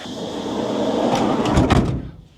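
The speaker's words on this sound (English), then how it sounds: "let's shut the door" A camper van's sliding door rolls along its track and shuts with a firm, close clunk and a short rattle, followed by quiet.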